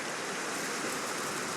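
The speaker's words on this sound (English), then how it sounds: "And of course it's raining." Steady rain falls across a video game landscape, a broad, even hiss that holds at the same level for the whole moment with no voices over it.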